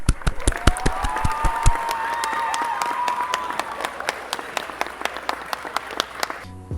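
Audience applause for a film's behind-the-scenes production team, a dense burst of many hands clapping that carries on for several seconds, sharp and close at first, then thinning toward the end.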